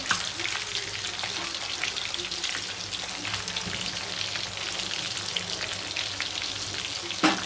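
Yogurt-marinated chicken frying in a pan over a small gas flame, a continuous close sizzle and crackle with faint stirring scrapes, steady and alone without talk.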